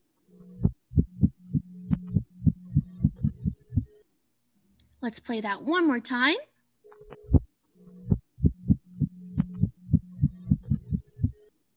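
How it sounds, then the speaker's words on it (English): Marine fish call recorded by hydrophone in the Gulf of Mexico: two series of low, regular thumping pulses like a heartbeat, separated by a short stretch of speech. "Here's another audio clipping of a fish call."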